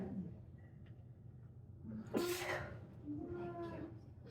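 A single sharp sneeze bursts out midway, preceded by a quick inhale, with quiet room tone around it.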